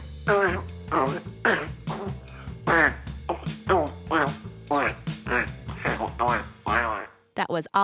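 A child vocally imitates a Parasaurolophus dinosaur fart, producing a run of quacking, throaty bursts in a bouncy rhythm, loud and close with brief pauses between voiced blasts.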